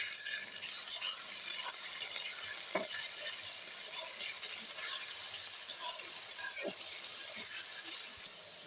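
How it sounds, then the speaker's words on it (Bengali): Marinated chicken, coated in soy and tomato sauce, fries lightly in a pan, giving a steady soft sizzle with occasional scrapes and clinks of stirring, and no voices. "এটা আমি হালকাভাবে ভেজে নিব"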